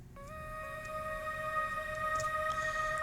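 Chopped vocal sample from the Black Octopus Siren pack, used for "O" sounds: a sustained, clean synthetic vocal tone with steady harmonics that enters after a brief pause and holds, soft and alone.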